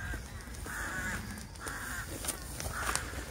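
Crows caw in a bluebell wood near Stirling, several harsh calls spaced roughly evenly, fairly distant and faint against quiet outdoor ambience.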